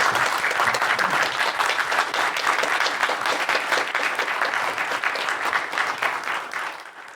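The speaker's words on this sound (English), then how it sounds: "A round of applause, everybody." Attendees at the AWS Community Day Australia 2025 closing keynote applaud the event volunteers, a lively crowd of clapping hands with crisp individual claps, steady and loud before tapering off at the close.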